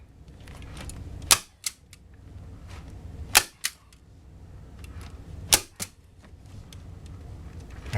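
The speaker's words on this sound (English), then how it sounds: "I'm taking the nose of the staple gun and pushing it up" Staple gun firing into soft vinyl while recovering a Kawasaki 250 Ninja motorcycle seat: three sharp, loud snaps spaced about two seconds apart, each with a short rebound click, over a low steady background hum.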